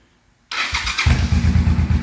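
A cold Honda Shadow VT500 motorcycle engine cranks and catches after a brief silence, then settles into a loud, close, steady idle with a deep rumbling throb.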